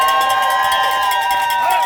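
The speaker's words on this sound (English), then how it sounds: "Let's get a round of applause for CWA" A rally crowd at a union gathering for CWA, Teamsters and CUNY students cheers and shouts steadily and loudly throughout, with a dense wash of voices and no clear breaks.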